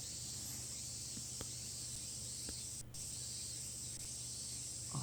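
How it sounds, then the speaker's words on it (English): Faint cicadas in the Tsukihime visual novel: a thin, steady high-pitched drone holding throughout, soft and even, with a few small clicks and no talk. "The faint sound of cicadas."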